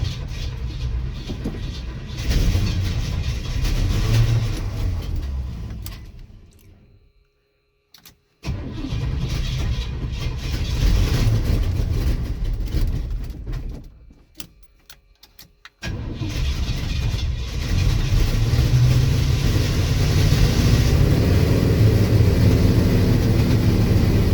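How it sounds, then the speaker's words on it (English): A 1988 Chevy V30 one-ton 4x4 dually truck engine, badly overfueling, is held at high revs with a loud rough roar. It dies twice into brief quiet and is restarted each time. "Definitely won't idle with it overfueling like this. So I got to keep the RPMs up."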